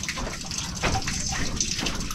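Water pours steadily at a campsite, a continuous close gushing splash that runs without a break the whole time.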